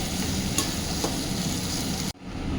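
Pav bhaji vegetables are mashed to a paste in a hot pan, with a continuous frying sizzle and occasional soft scraping taps. Near the end the sound cuts out abruptly, then the sizzle resumes.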